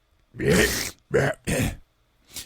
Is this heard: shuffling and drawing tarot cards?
no